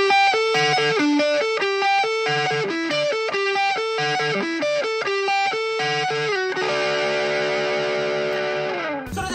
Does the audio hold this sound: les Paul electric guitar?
yes